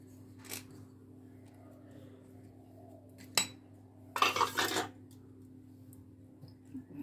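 A spoon clinks against a bowl as black chickpeas and chopped tomato go into a healthy protein salad, giving a few separate taps and one short clattering burst under a steady low hum.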